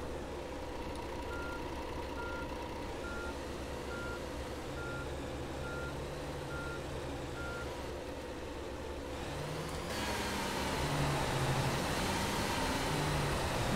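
Bus engine driving in the Tourist Bus Simulator video game, a steady low drone with a repeating reversing-style beep early on, growing louder and rougher near the end, with no talk over it.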